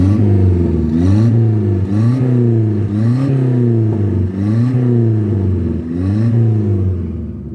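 Corsa 1.4 TSI engine with its exhaust valve open, revved in repeated bursts of about one second each, the note climbing and falling six times, loud and close with a raspy exhaust tone.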